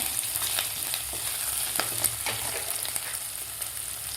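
Curry leaves crackle and fry in a pan of sautéed ginger-garlic paste, a continuous close sizzle with scattered sharp pops and light stirring clicks, no voices.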